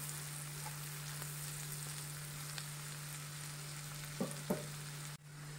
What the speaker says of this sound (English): Onions we have to saute it till it becomes golden brown in color.